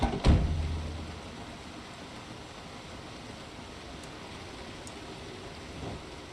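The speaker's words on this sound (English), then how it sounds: "All this rain is really cutting down visibility, apparently." Rain in the video game Project Zomboid falls as a steady, even hiss throughout, opening with a brief loud thump before settling into constant downpour with no voices.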